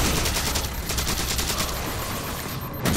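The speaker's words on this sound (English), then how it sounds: "Gun overheats so fast." A gun in Halo 4 fired continuously until it overheats, a dense rapid stream of loud shots running through nearly the whole three seconds with a brief change near the end.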